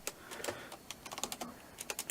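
Close, rapid keystrokes on a computer keyboard, irregular bursts of crisp clicks with short pauses, heard alone in a quiet room.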